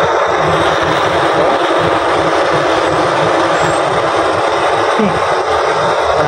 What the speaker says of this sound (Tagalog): Lakas talaga ng kalan ko.